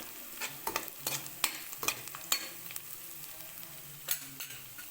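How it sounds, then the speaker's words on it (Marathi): Green chillies sautéed in a home kitchen pan, a quiet sizzle under a series of sharp spatula scrapes and taps against the pan. "मिरची पण आता छान परतली बघा"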